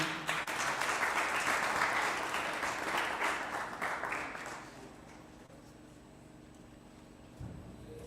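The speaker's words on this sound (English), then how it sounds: "A round of applause, ladies and gentlemen" Audience at a robotics competition awards ceremony applauding the mentors, a full burst of crowd clapping that fades out after about four seconds, leaving a quiet room tone.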